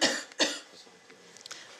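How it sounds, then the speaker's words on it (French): A person coughs twice in quick, harsh bursts right after a forced exhalation during a breathing test, close to the microphone, followed by a few faint breaths and small sounds. "Toussez à la fin."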